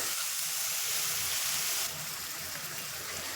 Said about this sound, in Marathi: एक टमाटा घेतलेला आहे तो टाकून द्यायचा परतवायला मस्त असं पाच दहा मिनटं कमी गॅसवर परतून घ्यायचं